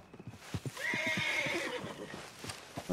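A horse in Red Dead Online whinnies in a long rising-and-falling neigh, close and clear, with rhythmic clip-clop hoofbeats sounding before and after it.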